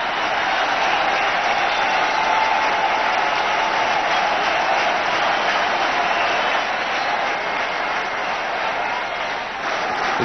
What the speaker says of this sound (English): The crowd and the atmosphere will tell you the story at home.